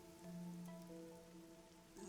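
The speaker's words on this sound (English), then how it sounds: "The rain, it never stops." Soft, steady rainfall patters on surfaces in the game Rain Code, faint and continuous beneath a low sustained musical tone.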